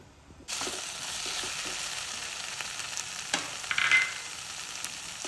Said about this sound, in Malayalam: ഇപ്പോൾ ഉള്ളി, വെളുത്തുള്ളിയും ഇഞ്ചിയും പച്ചമുളകെല്ലാം കൂടിയിട്ട് നല്ലോണം ഒന്ന് വാട്ടിയിട്ടെടുക്കാം